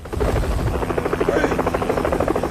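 A helicopter from an Asian drug-lord manhunt film hovers close with a loud, steady rotor thump and whining engine drone, a continuous pulsing roar that fills the whole stretch without letup.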